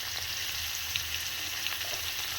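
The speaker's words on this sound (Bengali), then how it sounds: "এক ফোঁটা শুধু একটুখানি লবণ দিয়ে ভেজে নেবো" Paneer fries in a pan with a pinch of salt, making a soft continuous sizzle with faint crackles, steady and moderately quiet.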